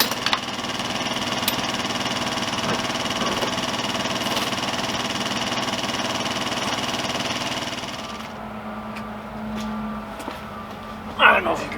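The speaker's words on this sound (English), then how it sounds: "I don't know if you can hear the construction" Construction work on a new subdivision across the street gives a steady, moderately close machinery engine hum for about eight seconds, then drops to a quieter background with a few brief knocks near the end.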